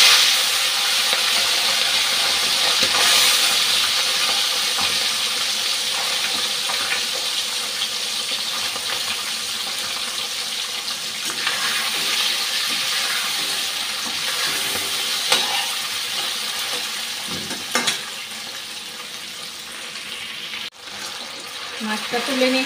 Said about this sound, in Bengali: তেলটা গরম হয়ে গেছে, মাছটা অল্প ভেজে নিচ্ছি,